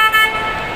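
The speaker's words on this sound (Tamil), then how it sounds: "ஹார்ன் அடிச்சாப்புல." A ride-on train horn at a shopping mall sounds one loud, sustained toot up close, the steady tone fading slightly over under a second.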